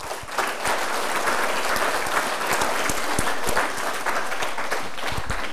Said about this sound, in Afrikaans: Kom ons gee hom weer 'n lekker hande klap.